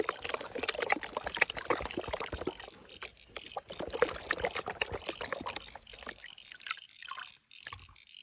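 Water sloshes and trickles steadily as a sieve of gravel is agitated in a creek during sapphire fossicking in NSW, close with continuous splashing that thins toward the end.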